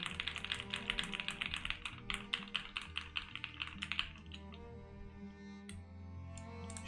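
Keys clatter in quick, uneven bursts on a rebuilt Class1800 mechanical keyboard, giving close, boomy clacks that stop after about four seconds, followed by a few scattered taps.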